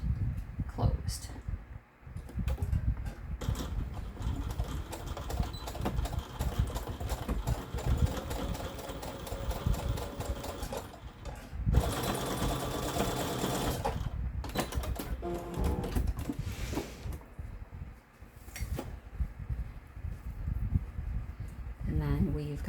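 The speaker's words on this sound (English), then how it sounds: "And then we're going to stitch that closed." Sewing machine stitching a two-tone scrunchie closed, a rapid mechanical whirring and clatter in bursts with short pauses, close and fairly loud, with a voice talking over it.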